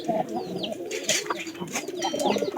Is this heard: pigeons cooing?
yes